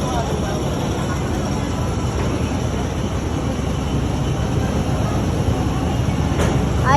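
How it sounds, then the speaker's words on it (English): Orange diesel train passing close by, a loud, continuous rumble and roar of engine and wagons that holds steady for several seconds, with a voice talking over it and a crowd nearby. "There's the train now, diesel guys."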